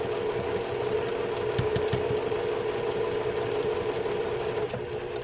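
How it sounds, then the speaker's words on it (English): A sewing machine runs steadily and close by, fitted with a quarter-inch presser foot, stitching a quilt block. Its even motor whir and rapid needle chatter continue without a break, and no one speaks. "I'm going to line this block up and just go slowly."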